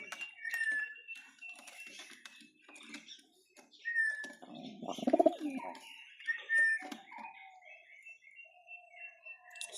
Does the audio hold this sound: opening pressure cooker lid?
no